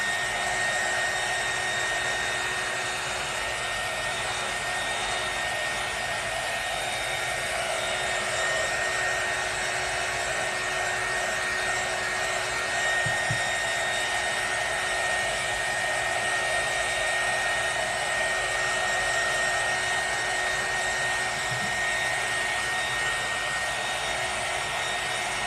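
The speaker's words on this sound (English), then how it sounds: "you do not have to have this heat gun. This is just making it go faster." Heat gun blowing hot air to dry craft paint on a welcome sign or door hanger, a steady close whooshing hiss with a constant whine, running alone with a couple of faint knocks.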